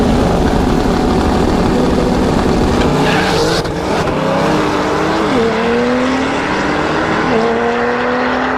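A red Camaro and a black Porsche Turbo launch in a drag race, with loud engine roar and rising revs climbing through gear changes, plus a brief burst of tire noise, all close and continuous.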